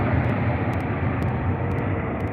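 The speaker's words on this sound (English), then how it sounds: "Air India. In the Dreamliner." Air India Boeing 787 Dreamliner departing Heathrow at night, a broad, steady jet roar heard from a distance, loud and continuous with no talk.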